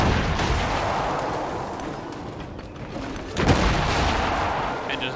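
Artillery bombardment in the strategy game Civilization VII, a dense barrage of booming shots with a heavier impact midway, loud and continuous over a rumbling backdrop.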